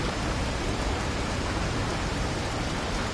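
Steady, dense rain pours without pause in the Resident Evil 4 Remake video game, a loud continuous hiss that fills the whole stretch, with no voices over it.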